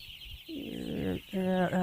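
Broiler chickens cluck and call in a couple of bursts in a poultry shed, fairly close, with a steady background hum between the calls.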